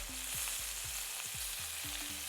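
Lamb chops fry in a hot pan, a steady close sizzle and crackle running throughout, with faint spoon or pan scrapes mixed in and no talking.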